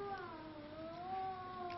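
A domestic cat meows in a long, drawn-out, wavering cry that rises and falls, heard alone and fairly quiet.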